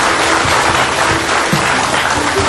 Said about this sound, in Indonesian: tapi kita kasih tepuk tangan dulu karena menang ternyata.